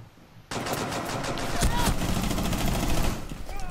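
Sustained video game gunfire in a shooter match, dense rapid bursts that start abruptly and continue loudly under the action, with occasional sharper shots standing out.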